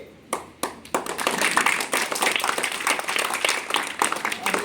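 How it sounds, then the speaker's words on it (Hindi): At a theatre workshop inauguration, the audience claps; a few sharp early claps swell into dense, continuous applause that runs to the end. "अभी ताली की जरूरत नहीं है, फिर बजा देना ताली, है ना।"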